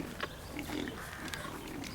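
Pigs grunt and oink in a farm setting, a steady low stream of close snuffling grunts with a few sharper squeals over two seconds.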